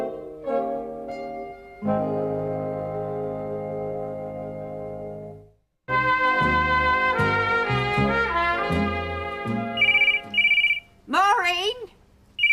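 A telephone bell rings in bursts, loud and close, in a pub or home setting, with people talking around and over the ringing.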